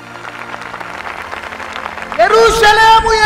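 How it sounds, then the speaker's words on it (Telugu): A church congregation at a fasting prayer service claps hands with arms raised, a brisk, rhythmic patter of many hands under an amplified voice, then a loud sustained voice rises over it near the end. "చేతుల పైకెత్తి చప్పట్లు కొట్టు."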